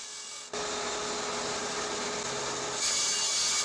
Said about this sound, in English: While I'm here with the bandsaw running